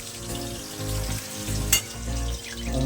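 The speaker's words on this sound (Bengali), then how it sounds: "ভাজা হচ্ছে" Fish sizzles and crackles steadily in hot oil up close, with a brief clatter partway through and no voices.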